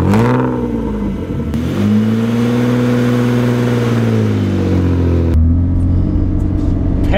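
An M50-powered BMW E30 325i drift car revs hard close by, the engine note climbing and holding with a brief dip partway through, loud and rumbling with no talk.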